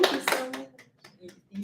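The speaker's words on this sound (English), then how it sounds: "Let's give her a round of applause." A short burst of hand clapping from a small group opens loud and close, then quickly thins out into scattered claps, with a voice speaking briefly near the end.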